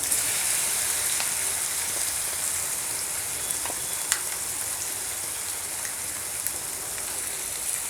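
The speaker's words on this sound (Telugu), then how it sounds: "పచ్చివాసన పోయేంత వరకు ఫ్రై చేసుకోవాలి" Green chili paste ground with salt sizzles and fries in a hot pan of oil for mango rice, a dense continuous hiss with scattered sharp pops and crackles, close and steady throughout.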